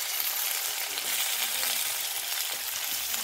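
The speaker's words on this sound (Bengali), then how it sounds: "সিম দিয়ে দিলাম, পেঁয়াজ কলি দিয়ে দিলাম। এবারে এগুলো সবগুলো ভেজে নেব।" Vegetables with flat beans and onion stalks frying in a pan, a dense, even hiss of sizzling oil close up that continues unbroken throughout.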